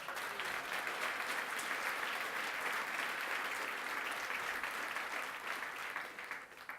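Sustained applause from a crowd at a political campaign launch rally, a steady dense wash of clapping that holds for several seconds and tapers slightly at the end, with no voices over it.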